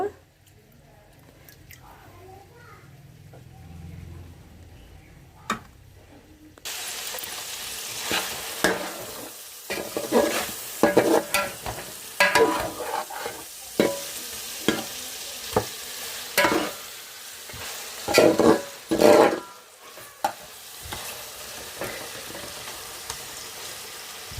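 Chicken frying in a few spoons of oil in a pan for a Sunday chicken fry, with steady sizzling and repeated scraping stir strokes that knock sharply against the pan.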